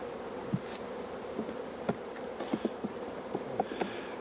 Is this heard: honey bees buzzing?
yes